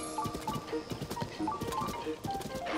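A giant horse in Zelda: Tears of the Kingdom trots with quick, steady clip-clopping hooves, close and continuous, alongside bright game music.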